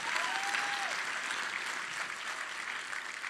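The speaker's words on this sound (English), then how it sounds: "You may applaud." Theater audience at PAX East 2022 bursting into sustained applause, a dense, steady wash of clapping from a large crowd that holds loud throughout with little variation.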